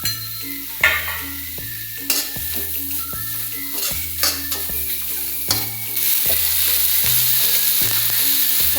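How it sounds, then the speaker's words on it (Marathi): Onion and coconut roasting in a hot wok. A continuous sizzle is broken by regular scraping strokes of a spatula, and the frying grows louder toward the end. "आपण कांदा आणि खोबरं भाजून घेऊया"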